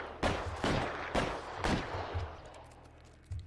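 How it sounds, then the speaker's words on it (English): Four heavy gunshots boom in quick succession during a shootout in the L.A. Noire game, each with a ringing decay, followed by a fading tail and one more distant thump at the end. "I'm just standing here as a shootout's going on"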